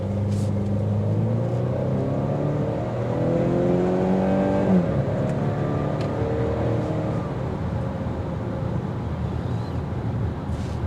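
A 2023 Volvo XC60 B5 accelerates, its engine note climbing in pitch before one gear change and then settling into a steady, moderate road and tyre roar heard from inside the cabin.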